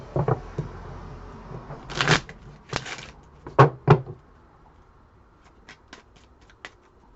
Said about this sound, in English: Shuffle again.